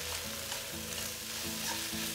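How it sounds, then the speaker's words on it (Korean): Dried eggplant stir-fried in a pan, a bright, continuous close sizzle with soft repeated stirring motions and no talking. "그냥 이렇게 볶기만 할 거예요"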